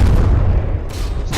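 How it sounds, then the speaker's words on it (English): Ship cannons fire and shells explode in a From The Depths frigate battle, a loud, dense rumble of booms with sharp blasts cutting in near the end. "All the explosions and muzzle flashes."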